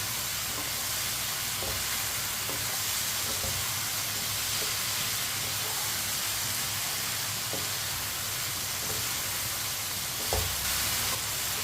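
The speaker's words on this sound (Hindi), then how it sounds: "एक मिनट के लिए सब चीज़ों को फ्राई कर लेंगे।" Potatoes and okra frying together in a pan give off a continuous, loud sizzle and hiss, steady throughout, with an occasional faint stir or clink of a utensil near the end.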